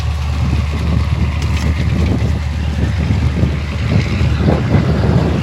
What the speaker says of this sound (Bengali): দেখছেন বৃষ্টি শুরু হয়ে গেছে